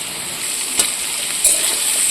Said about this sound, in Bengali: আদাটা ভালো করে ভাজা ভাজা হয়ে গেছে।